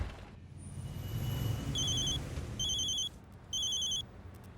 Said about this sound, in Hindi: लो आ गया फिर से डीएसपी सर का फोन।